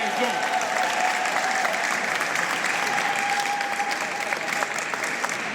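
Sustained audience applause at a tribute event, a dense even wash of many hands clapping throughout, with a faint tone running beneath.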